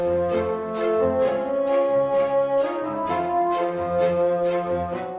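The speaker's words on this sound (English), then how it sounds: "Just take a listen to the music that plays while Hack is hanging out on her spaceship." Bright, bouncy melodic music from the game A Hat in Time, aboard a spaceship, with rhythmic chiming accents and a steady bass line, playing continuously with no voices.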